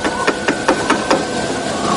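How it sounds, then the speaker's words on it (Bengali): Rapid knocking on a closed door in a Bengali audio drama: about five sharp, evenly spaced raps, loud and close, with no voices over them. "তারপর দরজার গায়ে শব্দ উঠল।"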